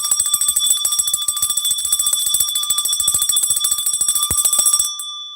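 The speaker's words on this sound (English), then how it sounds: "When I feel the Holy Spirit come on in, I ring the bell." A hand bell rung continuously and rapidly, a bright, loud metallic ringing with a fast clattering rhythm lasting about five seconds before stopping abruptly.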